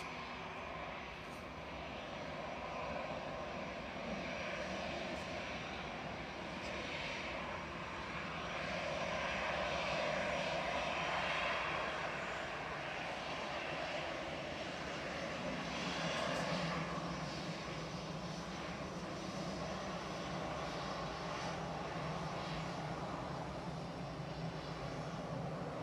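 An easyJet airliner departs Manchester Airport for Palma de Mallorca, its engines a steady broad roar that swells slightly midway, distant but constant, with no voices over it.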